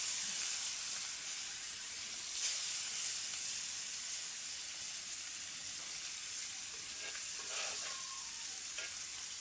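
Fish sizzles steadily as it fries in hot oil in a pan, with a constant hiss broken by a few brief pops and stirring sounds. Fairly close and even throughout, with no voices.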